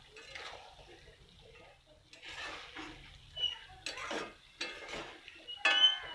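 Mutton is stirred and fried in a pot, with a spoon scraping and clinking against metal and faint sizzling, and a voice speaks briefly over the kitchen noise.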